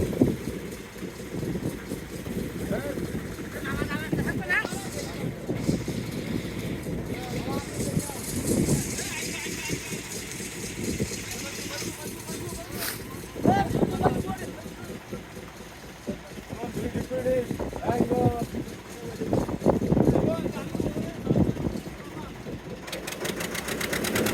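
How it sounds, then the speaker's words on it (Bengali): A fishing trawler running across the Bay of Bengal in stormy weather, its engine chugging steadily beneath heavy wind buffeting and splashing water, with people talking throughout. "আমরা ট্রলার চালিয়ে সামনের দিকে চলে যাচ্ছি"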